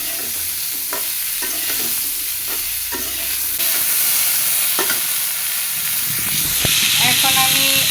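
Potatoes and sweet pumpkin stems frying in a pan, a steady loud sizzle with repeated spatula scrapes and stirring clatter, ending with a brief clink.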